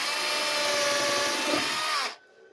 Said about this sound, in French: Maintenant, j'ai plus qu'à percer. À repercer pour l'écartement.